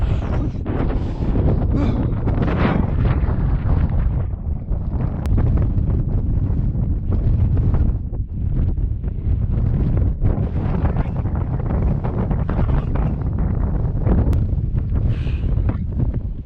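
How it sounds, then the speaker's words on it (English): Strong, steady wind gusts across a winter mountain trail in Utah's Red Mountain Wilderness, roaring loudly and continuously with a rough buffeting rush against the microphone and no break through the whole stretch. "Wind's coming in now."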